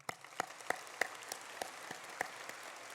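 An audience applauds award winners and nominees at a university community breakfast, with sparse, fairly faint individual claps spread across the room rather than a dense ovation.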